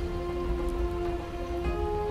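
Rain falling in the video game Project Zomboid, a steady patter of drops on surfaces with a constant hiss, moderate and even under a faint tonal hum.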